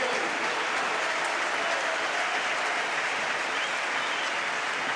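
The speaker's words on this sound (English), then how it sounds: "Big applause to the Dutchman." A football stadium crowd at a Barcelona versus Mallorca match applauds a substituted player, a steady wash of distant clapping and crowd noise with no break.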